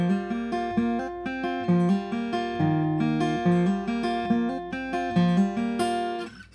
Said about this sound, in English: So the entire little riff sounds like this.